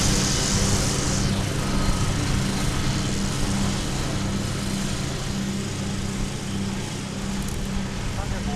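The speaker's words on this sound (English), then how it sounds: "So we've got mowers. We've got string trimmers." Lawn mowers and string trimmers at work on the grounds of DFW Airport make a continuous, steady engine drone throughout, with a voice faintly present over the din.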